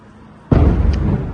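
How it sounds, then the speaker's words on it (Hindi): A single loud, deep boom from a nearby explosion during an Iranian missile attack on Israel erupts suddenly after quiet and rumbles on, close and heavy. "तो जोरदार धमाका हुआ, बिल्कुल नजदीक लग रहा है कि धमाका हुआ।"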